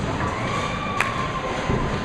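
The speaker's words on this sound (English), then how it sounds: "It was the loudest noise out of the crowd today" A crowd at a bowling alley during handicap finals roars in a steady, loud wash of cheering and shouting, with a soft thud in the middle.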